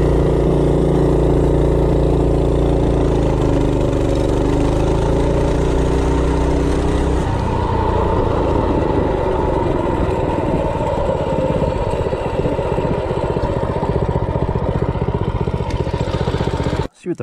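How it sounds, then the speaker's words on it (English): A stock Predator 212 engine on an Azusa minibike revs from idle into a hard 0–30 run, a close, buzzy single-cylinder drone climbing in pitch for several seconds and then holding a steady rasp before cutting off abruptly. "0-30, stock Predator 212 on the Azusa bike."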